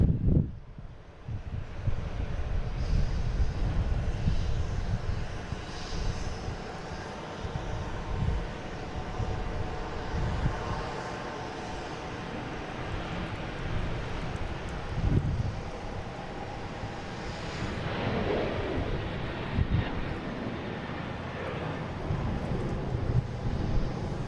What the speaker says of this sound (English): We have United getting ready to take off.